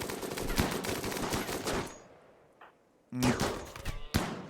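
Colonists trade gunfire with tribal raiders in a RimWorld battle, with loud rapid shots and bursts for two seconds, a quiet pause, then renewed close volleys, alone without speech.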